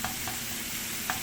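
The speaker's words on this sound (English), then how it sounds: "Okay, so it's kind of sizzling up enough." Garlic sizzles steadily while sautéing in a pan, a continuous close frying hiss with a few light scrapes of stirring and no talk over it.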